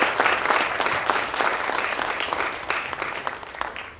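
An audience at a literary award ceremony applauds. Dense, even clapping from many hands continues throughout and eases off slightly toward the end.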